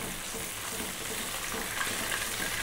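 Tilapia fish frying in nice hot oil, a steady dense crackling sizzle that stays close and even throughout, with no voices over it.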